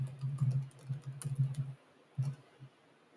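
Soft clicking keystrokes on a computer keyboard while notes are written down, coming in short irregular bursts with brief pauses, close and fairly quiet.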